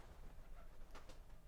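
Pigeons cooing inside a barn, a soft low murmur with a couple of brighter bird calls near the end, quiet against a steady background hum.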